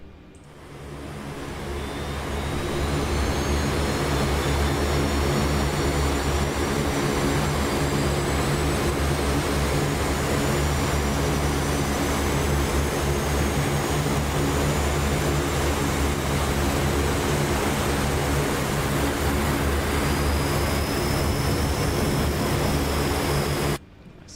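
A C-130J turboprop engine in the DCS flight simulator spins up, a sustained loud whine and broad roar building over a few seconds and holding steady, with faint rising tones above it.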